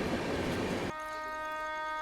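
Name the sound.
passing train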